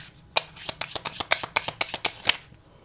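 Tarot cards being shuffled by hand, a rapid run of crisp riffling flicks and slaps in quick irregular bursts for about two seconds, close and clear, with no talking.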